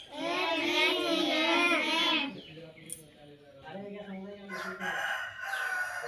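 A rooster crows loudly up close, followed by softer clucking and a few other sounds.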